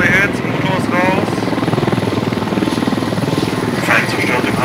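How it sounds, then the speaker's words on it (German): A helicopter in the video game Squad, hit twice with its engine knocked out, produces a loud, steady rotor thrum and whine that runs continuously up close, with bursts of voices over it. "Heli hat zwei Hits, Motor ist raus."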